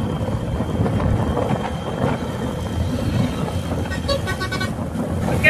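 A Honda SP 125 motorcycle cruising on a highway produces a steady engine drone and wind roar, with a brief vehicle horn toot from nearby traffic near the end.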